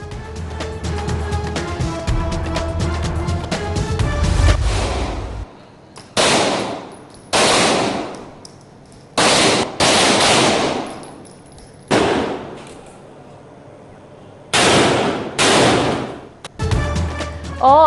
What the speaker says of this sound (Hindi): मुख्तलिफ विंग्स और डिवीजन्स के मजीद 40 अहलकारों की जदीद हथियारों की मदद से फायरिंग मश्क